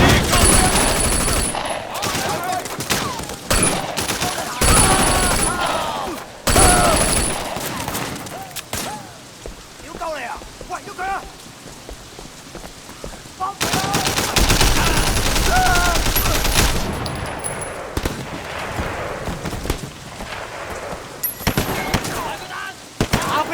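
Bursts of gunfire in a Sleeping Dogs shootout, with dense rapid volleys coming in waves amid shouting voices and game noise, loud and close throughout.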